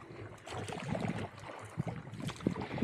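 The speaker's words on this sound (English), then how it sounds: "Just gotta keep paddling." Paddle strokes churn water as a paddleboarder pushes against a river current under wind on Flaming Gorge, Utah, giving steady splashing and swirling water with gusty noise close to the microphone.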